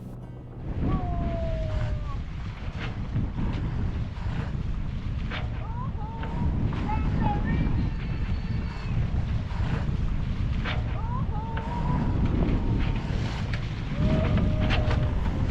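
A sailboat under way on the open sea in the Greek Cyclades, with steady wind buffeting the microphone, water rushing along the hull and waves washing past, continuous and fairly loud, with faint creaks and clinks of rigging.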